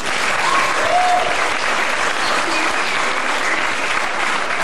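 Steady, loud applause from an audience at a scouting playback show, a dense wash of clapping that fills the room without a break and without voices rising above it.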